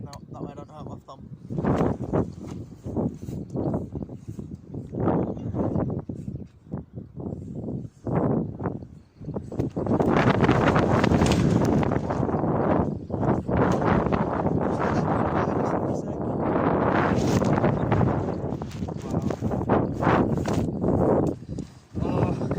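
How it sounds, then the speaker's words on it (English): Strong wind buffets a microphone at a harbour at night while night fishing, coming in loud roaring gusts that rise and fall, with a person talking intermittently under the noise. "It's so windy. The wind has picked right up."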